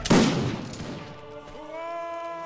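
Gunfire in the Forgotten Hope video game: a loud burst of overlapping shots at the start, decaying into a reverberant tail, with a sustained tonal hum rising afterward.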